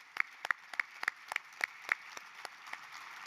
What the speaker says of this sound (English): Let's give our police force a round of applause.